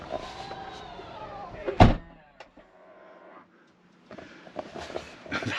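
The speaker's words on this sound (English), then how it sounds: "So let's close the boot." A motor whirs briefly, then a single loud slam as the power tailgate of a Tesla Model Y shuts, followed by quiet mechanical settling and faint movement.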